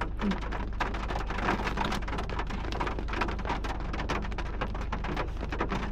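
Steady, loud rain patters densely on a house roof with no ceiling beneath, dense tapping continuing throughout and no voices.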